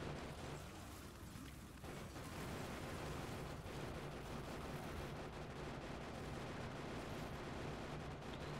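Machine gun turrets fire at night in the video game Factorio, a dense, unbroken roar of rapid gunfire and rumble that holds steady and loud throughout.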